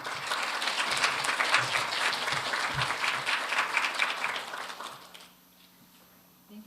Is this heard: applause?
yes